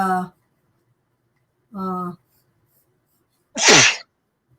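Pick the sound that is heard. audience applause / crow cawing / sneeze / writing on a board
sneeze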